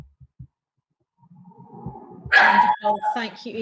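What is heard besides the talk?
dogs barking in the background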